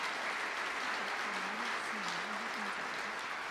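Steady audience applause at a corporate anniversary award ceremony as a plaque is presented, a continuous even wash of clapping from a large hall, moderately loud with a faint voice beneath.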